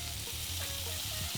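Crumbled tofu sizzles in a frying pan, a soft steady crackle and hiss with faint stirring, brief and close, no talking.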